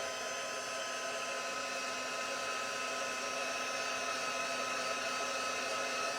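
A heat embossing tool blows hot air onto watercolor embossing powder, a steady close whirring rush that holds evenly throughout with no voices.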